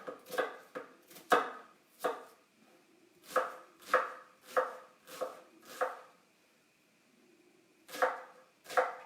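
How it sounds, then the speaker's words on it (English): An onion chopped with a knife on a board, sharp distinct cuts coming in irregular bursts with short pauses between groups, close and clear with no talk. "I forgot I have to chop the onion"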